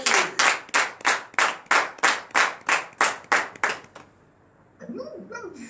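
Rhythmic clapping from a congregation at a morning prayer service, about a dozen strong, evenly spaced claps, then a pause and a voice speaking faintly.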